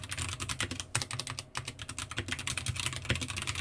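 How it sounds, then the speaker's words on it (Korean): Fast, continuous typing on a computer keyboard with some keys double-pressing, a dense close clatter of keystrokes with one brief pause. "제가 지금 키보드가 갑자기 2개씩 눌러지는 키들이 생겨서 좀 불편하네요."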